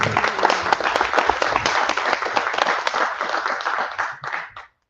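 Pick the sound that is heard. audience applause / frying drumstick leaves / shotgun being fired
audience applause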